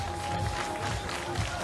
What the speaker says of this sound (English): even the Turks in the crowd are applauding, standing, waving their flags